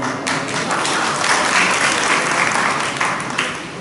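A large outdoor crowd at a political rally in Barshitakli claps in a dense, sustained burst, loud and close, swelling slightly in the middle and tapering toward the end, with no clear talk over it.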